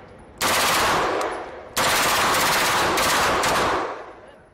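Gunfire rips out in two long automatic bursts at an outdoor gun range, loud and close, the first lasting about a second and a half and the second running over two seconds before cutting off.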